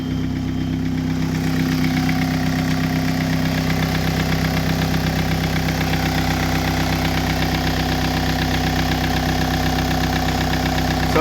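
A Citroën C15 TD diesel engine fires after a short crank and settles into a steady, clattering idle with a knocking rhythm, close up and unbroken by speech for several seconds.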